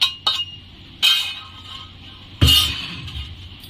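A hand pestle knocking and grinding in a mortar to crush spices and fried puffed rice, with a few sharp clinks and gritty grinding between them, close and fairly loud.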